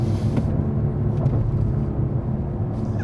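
Mercedes CL65 AMG V12 bi-turbo under full throttle on the autobahn, a steady deep engine roar held in one gear, continuous and fairly loud from inside the car with no talk.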